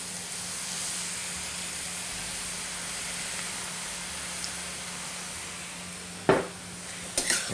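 Rice and pork sizzle in a hot pan during stir frying, a steady, broad hiss that carries throughout, with a couple of sharp clinks of the utensil against the pan near the end.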